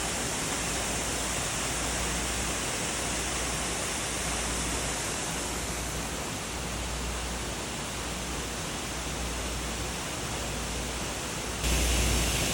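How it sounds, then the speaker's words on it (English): A little waterfall in western Pennsylvania or Ohio gives off a steady, broadband rushing wash of falling water, loud and unbroken throughout with no voices. "Here was a little waterfall we found."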